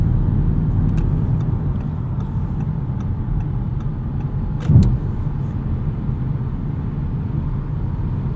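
2016 Audi S7 with air suspension rolling over a rough, bumpy road, a steady low road-and-engine rumble heard from inside, with one brief thump near the middle.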